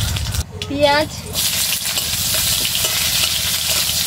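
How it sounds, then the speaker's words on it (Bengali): Dried red chillies and panch phoron temper in hot oil, crackling and sizzling steadily and loudly as the spices are stirred, with a brief voice near the start. "তেল, শুকনো লঙ্কা আর পাঁচফোড়ন ফোড়ন করে নেবো"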